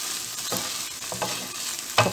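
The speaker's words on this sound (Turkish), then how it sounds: "Ve 7-8 dakika kavuralım" Dried peppers sautéing in a pan for a yogurt kavurma, a steady sizzle broken by a few louder stirring scrapes, close and alone without voices.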